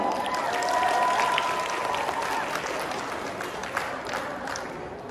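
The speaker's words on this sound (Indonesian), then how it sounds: "Tepuk tangannya dulu dong." An audience applauds at the debut performance of a youth arts studio's new members. The dense, continuous clapping is loud at first and eases slightly, with a faint steady tone and crowd murmur underneath.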